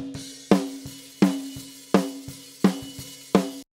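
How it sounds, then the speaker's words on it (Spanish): Snare drum recorded by its top microphone, five loud sharp hits at a steady pace with ringing tails, alternating with softer ghost strokes, close and dry with no voices. "Ahora vamos a escuchar la caja, el micrófono de arriba de la caja. Suena así."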